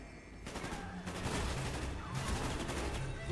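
Sustained covering fire in Call of Duty Black Ops: dense, continuous automatic gunfire that stays loud and close throughout, with faint talk beneath it.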